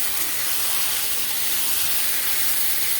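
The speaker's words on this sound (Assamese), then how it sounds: "এতিয়া মই তেলত চিকেনখিনি দি দিওঁ।" Chicken pieces frying in hot oil, a steady, dense, close sizzle and hiss that holds evenly without pause.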